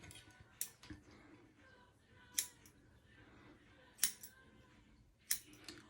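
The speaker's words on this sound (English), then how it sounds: "So I'm going to trim this some more." Scissors trim hair on a man's hair unit, giving four crisp, close snips spaced about a second or more apart over quiet background.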